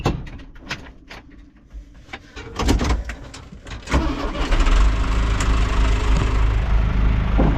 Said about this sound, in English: that door's gonna shut